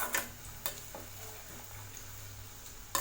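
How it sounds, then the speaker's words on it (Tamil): A pan of fried onions with asafoetida being stirred, with a few sharp scraping ticks at the start and end over a steady low sizzle and hum, fairly quiet and close. "பெருங்காயத்தூள் சேர்த்தனாலுமே இதை நல்லா மிக்ஸ் பண்ணி விட்டுறலாம்."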